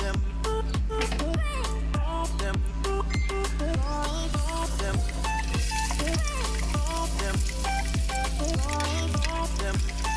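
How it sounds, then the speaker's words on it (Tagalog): Onion and garlic sauté in a hot pan with a steady sizzle and crackle, running throughout alongside rhythmic, repeating background sounds. "simulan natin igisa yung sibuyas bawang"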